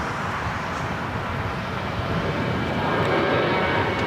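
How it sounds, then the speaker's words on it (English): United Airlines Boeing 737-900ER jet at LAX, a steady broadband engine roar that swells slightly toward the end, heard on its own. "It's United Airlines Flight 2403 headed to Houston on a 737-900 ER"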